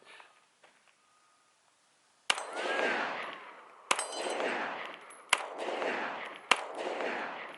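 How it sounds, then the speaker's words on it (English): Four sharp, loud shots from an FN 509M pistol fired at a target, spaced roughly a second or more apart. Each report is followed by a long, echoing decay, with no talk. "First thing I'm gonna do is we're just gonna shoot some rounds on target."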